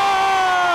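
Dense crowd of parade spectators cheering and whooping along a Phillies victory route, a steady loud roar of many voices with high shouts mixed in, close and continuous.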